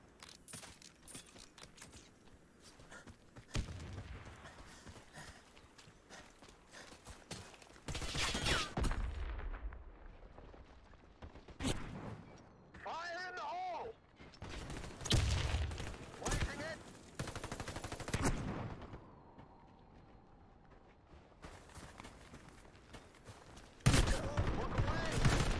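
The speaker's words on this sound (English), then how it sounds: "Let's try this burst fire." Short bursts of video-game gunfire, several separate volleys scattered across the stretch with quieter mechanical clicks between them, mixed with game sounds and occasional voices.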